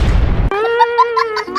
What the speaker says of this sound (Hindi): तो पटाखा उल्टा इसी के पास आ जाता है।